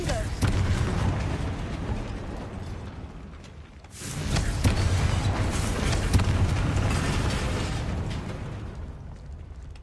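A Confringo explosive spell blasts in Hogwarts Legacy, a loud burst that cuts off a dense stretch of rumbling noise and then rolls into a sustained, crackling roar of debris and effects, with a voice briefly heard over it.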